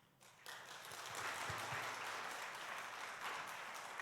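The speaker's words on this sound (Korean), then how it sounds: "하나님께 감사의 박수." A church congregation breaks into applause of thanks to God after a Sunday afternoon sermon, clapping that swells quickly and holds as a steady, fairly faint roar of many hands filling the hall.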